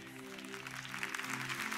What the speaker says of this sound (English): You're not clapping for a man, you're clapping for Jesus